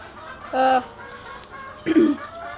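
Backyard chickens cluck loudly after being fed lettuce, two short bursts of close, bright, throaty calls separated by quieter rustling.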